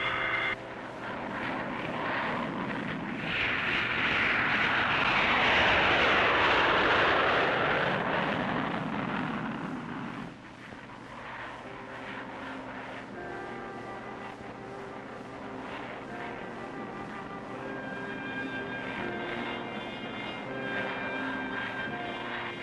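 An Army field hospital unit's aircraft takes off from McChord Air Force Base in Washington, a loud swelling engine roar that builds, peaks and then drops to a fainter steady drone with a tonal hum underneath.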